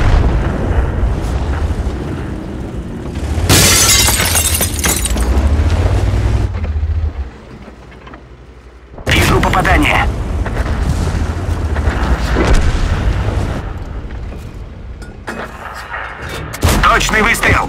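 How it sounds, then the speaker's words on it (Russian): Heavy tank cannon shots boom in a tank combat video game, two loud blasts with rumbling tails a few seconds apart and a third burst near the end, under in-game crew voice callouts. "Точный выстрел!"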